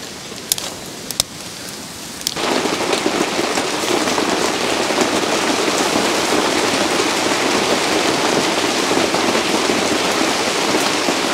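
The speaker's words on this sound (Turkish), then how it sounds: "Nasıl yağmur başladı?" Rain pours onto a forest campsite with an inflatable tent, starting after a few sharp pops and then turning into a loud, steady hiss of drops that lasts to the end.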